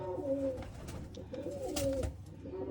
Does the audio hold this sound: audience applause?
no